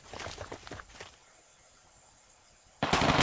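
A tank in March of War takes gunfire, with a dense cluster of sharp impacts and shots for about a second, then a quiet stretch, then a loud sustained burst at the end.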